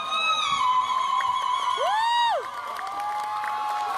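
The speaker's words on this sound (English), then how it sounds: "You can see people raising their hands and clapping." A concert crowd at a live show in Vitebsk cheers and whoops, with sustained shouts and a sung high note sliding over the noise, loud and near before easing slightly.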